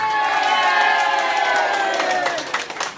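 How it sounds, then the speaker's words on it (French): A crowd at a nursing home's senior pageant cheers and claps for the elderly winner, bright whoops and shouts over dense clapping that peaks early and fades toward the end. "Un baiser à notre Miss Mamie qu'on applaudit, s'il vous plaît."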